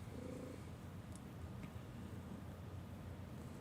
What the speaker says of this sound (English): She's got like a, what do you call it? Chainsaw purr going on right now.